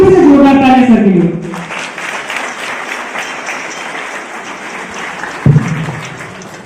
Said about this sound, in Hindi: एक बार फिर से जोरदार तालियां सर के लिए